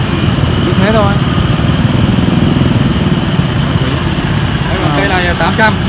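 A motorcycle idles at the busy Van Phuc bonsai street market in Vietnam while its rider sleeps on it, a steady low putter that runs loud and close throughout while voices chatter over it now and then.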